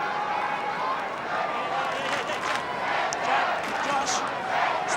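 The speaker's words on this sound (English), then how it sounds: "Collingwood fans are finding voice." Collingwood fans roar and cheer in a crowd of about 42,000 at the Telstra Dome during an Australian football match, a continuous mid-distance crowd din with surging shouts throughout.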